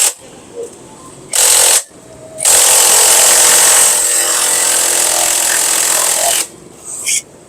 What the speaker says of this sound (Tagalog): combination natin ng puller tapos ng ating impact wrench